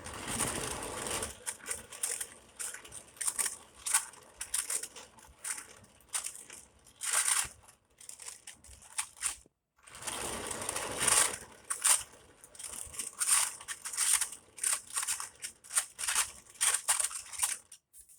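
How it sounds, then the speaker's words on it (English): Acrylic paint being scraped up from wax paper taped over a glass tabletop, giving repeated rough, crackly scraping strokes in bursts with a brief pause midway, close and fairly loud. "I have wax paper that I have taped down on that so that I can scrape the paint up"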